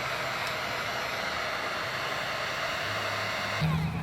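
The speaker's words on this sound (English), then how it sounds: "So I have a heat gun this time." Heat gun blowing hot air while fitting a hose during a van rebuild, a steady close whooshing roar that holds constant throughout with a slight change near the end.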